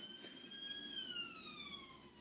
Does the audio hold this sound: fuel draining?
no